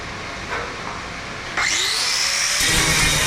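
A grinder working over welds on the door of a 1959 Chevy truck, a close, loud, steady whine that lifts in pitch and grows harsher partway through as the disc bites the metal.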